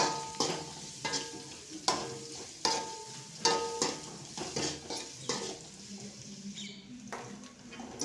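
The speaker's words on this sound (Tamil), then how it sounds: "போட்டு வெங்காயம் பூண்டு கருவேப்பிலை போட்டு நல்லா வறுத்துக்கலாம்" Onion, garlic and curry leaves frying in a pan for a drumstick curry, with repeated stirring strokes and utensil scrapes at a steady rhythm over a soft sizzle, close by.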